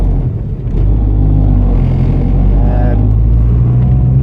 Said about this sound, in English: It's idling fine. Idles about 1100 RPM.